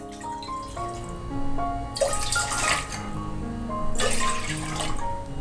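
Water from cups is poured into a cooking vessel to boil cracked wheat, coming in two splashing bursts over steady background music.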